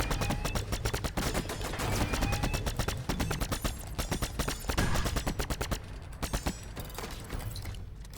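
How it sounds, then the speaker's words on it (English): Sustained automatic weapon fire in the sci-fi shooter Signal from Tolva, a steady rapid stream of close, loud shots with brief pauses and some uneven bursts toward the end. "I'm literally shooting blind"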